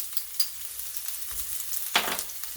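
Garlic sizzles in hot oil in a cast iron skillet. The crackle is soft and close, with a few sharper pops and spits.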